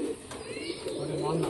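Pet pigeons perched up high cooing softly, a brief low murmuring coo heard under a person talking close by.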